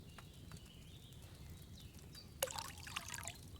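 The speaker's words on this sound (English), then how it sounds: "So, what did you pour in there? Wine, of course." Wine poured into a cauldron in a video game, a short splashy liquid pour that starts abruptly partway through, standing out briefly over a low background hum.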